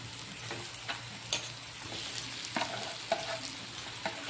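Aloo (potatoes) for Mumbai-style vada pav sizzle and fry in a pan while being stirred, with steady close frying hiss and scraping clicks of a spoon throughout.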